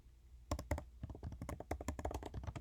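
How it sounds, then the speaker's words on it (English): Fingers type briskly on a computer keyboard, close up, in a quick, uneven run of clicking keystrokes while text is entered into a Pages document on a Mac. "I'm just going to type in something like Body is A."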